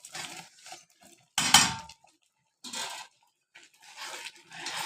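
Prawns tipped into a spiced malai curry gravy in a cooking pot, giving a loud splashing, clattering burst with a short sizzle, amid quieter scraping and stirring noises from the pot.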